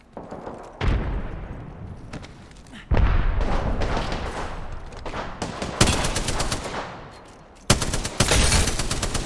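Apex Legends gunfire rings out in loud, repeated bursts of rapid shots separated by short pauses, each volley sharp and close.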